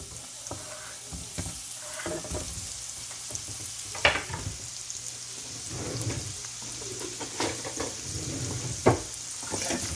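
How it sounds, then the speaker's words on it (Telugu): Ridge gourd pieces sizzle in hot oil in a pan: a steady, moderately loud frying hiss broken by sharp spattering pops and occasional stirring noises. "చూసారా, చూయమంటుంది కదా, అంటే నూనె బాగానే వేడెక్కింది."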